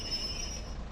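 A UK passenger train in the Train Sim World 4 game brakes toward a stop, its wheels giving a steady thin high squeal over a low rolling rumble, with no talking.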